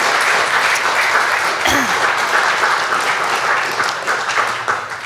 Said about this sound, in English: Another round of applause for Karen Abbott.